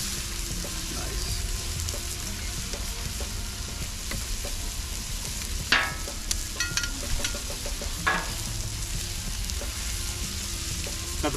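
Striped bass sears skin side down in butter on a grill, giving a loud, continuous close sizzle with a few sharper crackles and spatters rising above the steady hiss.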